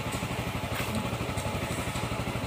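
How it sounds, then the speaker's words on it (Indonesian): Motorcycle engine climbing an uphill road, a steady, even drone with a rhythmic low pulsing and light clatter, close and continuous throughout. "itu motor tidak apa-apa itu naik tanjakan nih"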